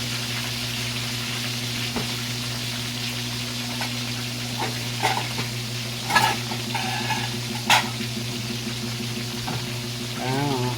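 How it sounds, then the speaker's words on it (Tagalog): Fish frying in a pan, a continuous close crackling sizzle with a steady hum beneath and a few clinks and scrapes of a utensil against the pan. "yung isdang piniprito nyo at hindi pa natatanggal, huwag yung pepersahin, nakadikit, didikit sa kawali po yun"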